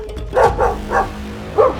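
A dog barks four times in quick, uneven succession, loud and close.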